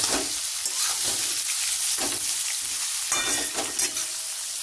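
Lemon chicken stirred in a wok with a metal spatula over a constant loud sizzle, with repeated scraping strokes across the pan at an uneven rhythm, close up and without speech.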